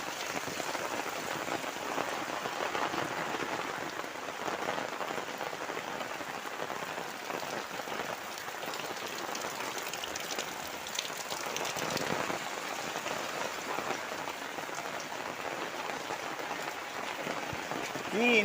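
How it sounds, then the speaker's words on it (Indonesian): Heavy rain pouring steadily over a village, a dense, constant hiss of drops on surfaces that holds loud and unbroken throughout. "Hujannya keras guys"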